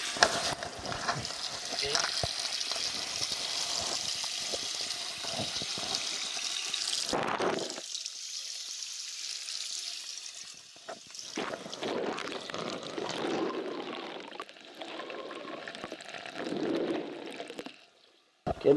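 Water splashes and trickles over a new camera in uneven bursts, with brief pauses and scattered handling noises, close by.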